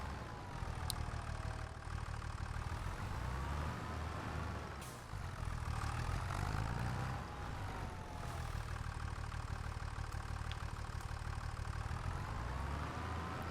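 A tractor engine in the video game Farming Simulator 25 runs steadily, a low rumbling drone that rises and falls in pitch as it works, close and continuous with no talk.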